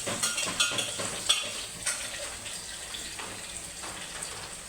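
Onion and garlic frying in a pan, a moderate sizzle with repeated stirring scrapes and small knocks spread across the stretch.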